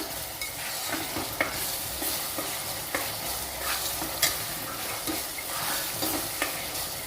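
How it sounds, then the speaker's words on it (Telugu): Ginger garlic paste fries over a medium flame for mutton leg curry, a constant loud sizzle with a spoon scraping the pan in short strokes every second or so. "రెండు టేబుల్ స్పూన్లు వేసాము అల్లం వెల్లుల్లి పేస్ట్. కొంచెం మిడిల్ ఫ్లేమ్లోనే అంతా వేయించుకోవాలి"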